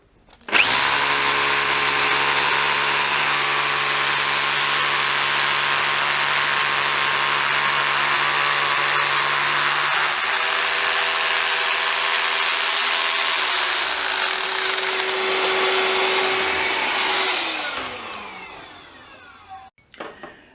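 A Milwaukee power drill whirs steadily alongside a constant droning Milwaukee M12 dust extractor with HEPA filter, the motor pitch shifting midway before winding down near the end.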